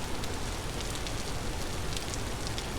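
In the survival video game Vintage Story, steady rain patters on surfaces as a dense, even hiss with scattered drop taps throughout.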